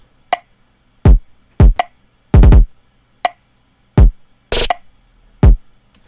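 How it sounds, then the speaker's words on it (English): A trap drum loop inside a dubstep track: sparse, punchy kicks, quick rattling rolls and a sharp noisy clap or snare hit, each dry and loud with silence between the hits. "here at the bottom, I have these trap drums."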